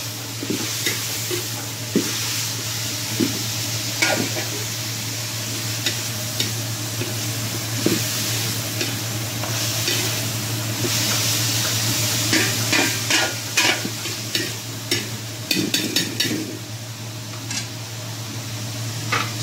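Marinated beef steak, soaked in soy sauce, pepper and a little sugar, sautéing in a pan with steady sizzling, spatula scrapes and clinks against the metal throughout, growing busier toward the end.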